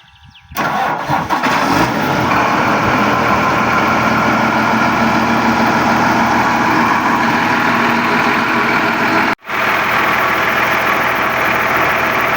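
Case MX 270 tractor engine turning over and then running at a loud, steady mid-pitched idle close by, with a brief cutout near the end before the engine note resumes.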